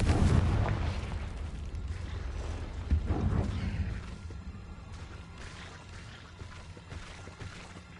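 Confringo spell exploding in Hogwarts Legacy inside a cave, a heavy booming blast at the start with another burst shortly after, fading into a long rumbling tail.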